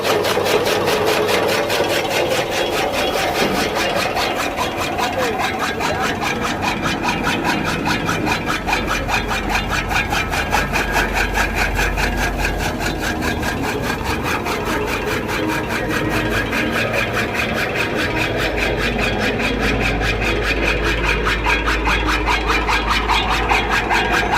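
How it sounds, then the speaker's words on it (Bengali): A motor-driven chaff cutter chops loose, jumbled straw in a continuous loud grinding, rasping clatter over a steady engine hum, with rapid repetitive blade strikes running unbroken throughout. "আমরা এলোমেলো খড় কীভাবে কাটিং করতে আপনাদের দেখাই"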